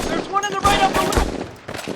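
Gunfire and machine-gun bursts from a World War II battle scene in a war drama series, loud and dense with overlapping shots, mixed under voices.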